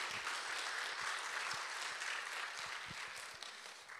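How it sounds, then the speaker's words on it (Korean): Steady applause from a church congregation welcoming a pastor to preach at a Sunday service fills the room, holding evenly for a few seconds before easing slightly at the end. "우리 나오실 때 한번 큰 환영의 박수로 한번 맞이해 주시면 감사하겠습니다"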